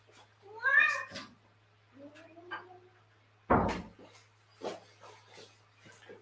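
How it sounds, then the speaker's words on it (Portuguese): A house cat at a window meows to be let into an office, giving several distinct meows of varying pitch, near and fairly loud, with a short knock or bump in between. "Gatos são assim, eles passeiam por aí, depois eles chegam aqui na janela, pedem para entrar"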